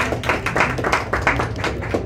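Audience applause at a motorsport team's press conference, a steady patter of many hands clapping at moderate volume throughout, with no voices over it.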